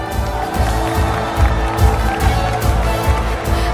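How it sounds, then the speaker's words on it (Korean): Audience applause at a live launch event for the game MapleStory, steady clapping from a large crowd with rhythmic thumping, loud and close throughout. "박수 부탁드리겠습니다."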